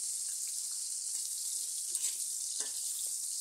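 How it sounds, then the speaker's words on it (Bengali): Pieces of pumpkin sizzling in hot oil in a pan, a steady bright frying hiss with a few soft stirring clinks, no voices. "তেলটা গরম হওয়ার পর আমি মিষ্টি কুমড়া দিয়ে দিচ্ছি।"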